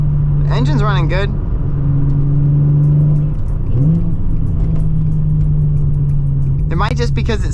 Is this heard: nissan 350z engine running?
yes